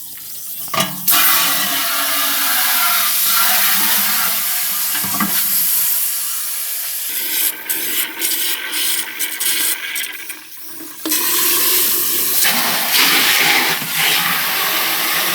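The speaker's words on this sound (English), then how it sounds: "I'm going to water this bath with about 20 liters of water" Water poured from a container onto a bathtub earthworm farm, about 20 liters splashing onto bedding in loud bursts that stop and restart, with a brief break partway through.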